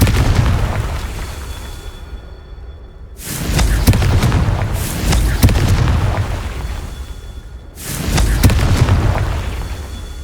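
Confringo spell blasts from Hogwarts Legacy go off as loud booming explosions, three bursts each trailing into a rumbling roar, with a quieter lull between them and no talk.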